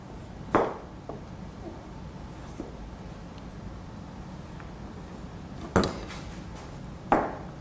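A knife cutting vegetables for sushi rolls on a board: a few sharp, isolated knocks spaced seconds apart, with a faint quieter tap between them over low room noise.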